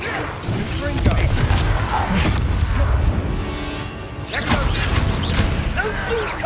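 A Confringo blasting spell explodes in the Hogwarts Legacy video game, with loud crashing bursts and whooshes mixed with dense combat noise while a character shouts over it.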